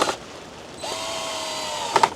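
A power drill drives a screw into a plastic pallet planter, whirring in one steady run of about a second and ending with two sharp clicks.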